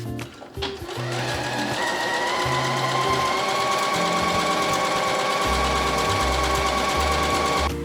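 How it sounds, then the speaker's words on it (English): A home sewing machine runs steadily as it stitches a fabric edge closed, a loud, continuous mechanical whir with a faint start-up in the first second, then no pause through to the end. "And now we're gonna sew this edge closed."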